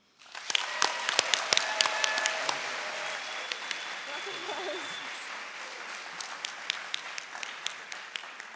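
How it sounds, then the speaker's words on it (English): Audience at a school awards day applauding yearbook helpers, a moderately distant wash of clapping with sharp individual claps that carries on steadily, with some voices mixed in. "hopefully get a big round of applause for our biggest helpers, Mr. Chase, Mrs. Schaefer, Mr. Fritz, and Mr. Buffano"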